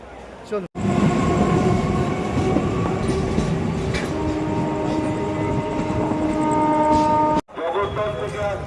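A passenger train heads from Dum Dum Junction toward Naihati, its loud, steady rumble and clatter filling the carriage with a whining tone, the noise briefly dropping away just after the start and again near the end.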